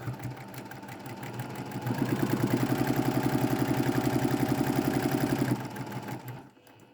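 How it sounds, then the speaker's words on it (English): A sewing machine stitches a narrow line around the edge of a quilt block, its rapid, even mechanical chatter building to a loud run and then slowing and fading at the end. "sew a little line around the perimeter of the block"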